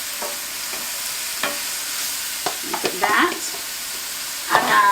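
Thick-sliced and minced mushrooms sizzle in a pan with steady frying hiss, broken by occasional utensil clinks and stirring scrapes; a brief spoken word is heard.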